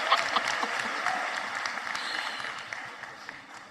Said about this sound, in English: please give our Deputy Minister, Dr. Regina Mhaule, a round of applause for the votes of thanks